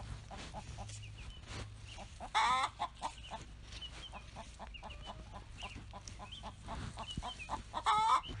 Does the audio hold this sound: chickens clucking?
yes